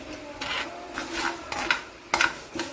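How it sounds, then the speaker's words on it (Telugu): Mustard seeds fry in oil for a bottle gourd chutney, a spatula stirring them in short rasping scrapes and swishes that come in bursts, close and moderately loud, with no voices. "అందుకని కొద్దిగా వేగాక ఆవాలు వేసేసుకుందాము"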